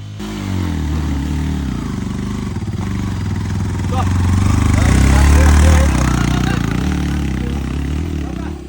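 A motorcycle engine labours steadily up a steep road near Tindu in Bandarban, with a close, loud low drone that swells in effort midway and then settles, while a rider talks over it.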